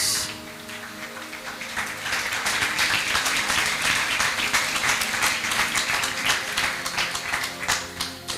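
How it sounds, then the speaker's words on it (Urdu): A church congregation applauds continuously, dense clapping building slightly louder and holding steady throughout without talk. "تالیاں"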